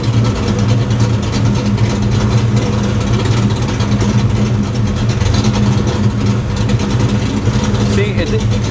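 A Foxbody Mustang engine idles with its timing correction removed, giving a loud, continuous low rumble that stays rough and uneven throughout.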